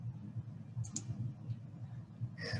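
A single computer mouse click, quick and faint, over a steady low hum at a desk.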